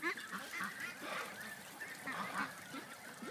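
A group of ducks honking and quacking close by, repeated nasal calls overlapping in bursts with no talk, moderately loud against a quiet background.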